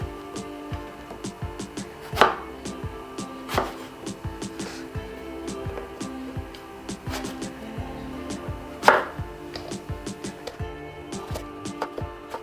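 A knife chops brinjal (eggplant) on a board in a home kitchen, steady close taps with a few louder thuds among them.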